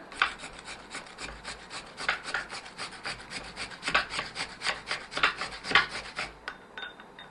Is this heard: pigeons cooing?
no